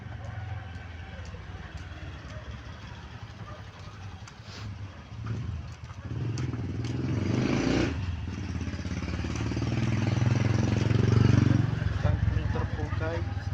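Motorcycles and other road traffic roll past on a street, engines building from a steady background hum to a louder, closer pass toward the end, with no one speaking.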